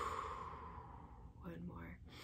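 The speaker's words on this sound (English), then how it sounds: "Deep breath in." A deep, slow inhaling breath during a morning prayer and heart-opening exercise, drawn in audibly and close up, followed by a brief exhale-like rush of air.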